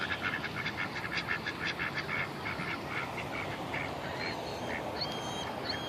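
Ducks quack steadily in a busy outdoor flock of ducks, geese and other birds, the repeated calls fairly close but moderate in level over a constant background wash.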